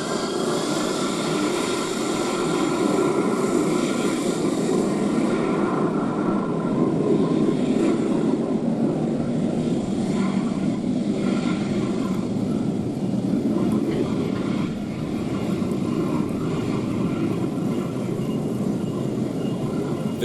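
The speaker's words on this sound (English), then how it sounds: "This Airbus A330 really showing off its engine power because of a wet runway." An Airbus A330 lands on a wet runway, its engines roaring loudly and continuously in a broad, steady rush of jet noise and spray with no voices.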